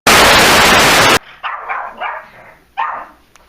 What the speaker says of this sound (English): You see this dog? Bark,